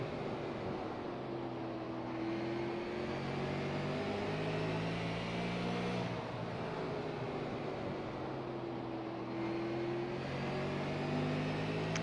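A Super Late Model race car circling South Boston in the iRacing simulator drones steadily, its engine pitch rising and falling in slow sweeps through the corners.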